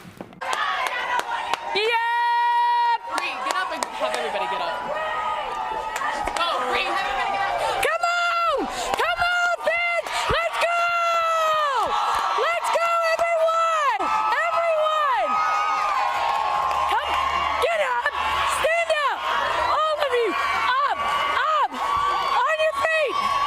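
Softball stadium crowd during an AUSL game, loud and sustained throughout with cheering and clapping, while voices shout and talk over the noise and a player hypes up the fans.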